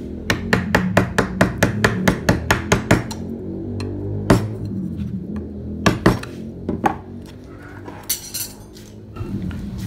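Wood carving with a gouge chisel, producing a run of rapid sharp tapping strikes followed by scattered single knocks and scraping, close and fairly loud with no talk.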